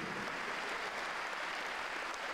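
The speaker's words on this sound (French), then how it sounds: "Un tonnerre d'applaudissements au comité." An audience at a French charity cheque presentation for the cancer league applauds the organising committee, a dense, even wash of clapping that is steady but fairly quiet and distant.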